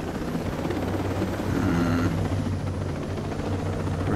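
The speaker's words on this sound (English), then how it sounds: "it's a good thing I've got a helicopter standing by." A helicopter in the video game Ghost Recon Breakpoint, with a steady, close rotor thrum and engine drone that runs without a break.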